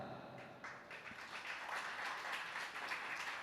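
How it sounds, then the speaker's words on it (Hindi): An audience at a Jain religious discourse claps steadily, a soft continuous patter of many hands heard from a slight distance with no talking over it. "केवल ताली बजाने से काम नहीं चलेगा"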